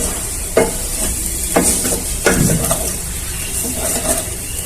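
Whole chilies drop into a pan of frying vegetable pulao, giving a steady close sizzle with a few sharp bursts and stirring scrapes, no voices.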